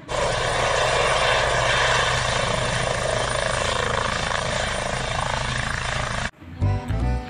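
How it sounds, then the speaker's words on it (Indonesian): A toy helicopter gives off a loud, steady whirring drone for about six seconds, then it cuts off abruptly and a brief burst of short tones follows. "Ini ada helikopter."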